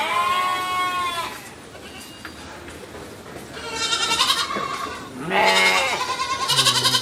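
Young goats in a pen bleat in wavering, quavering calls, a few at a time with short pauses between bursts, close and fairly loud over low background noise.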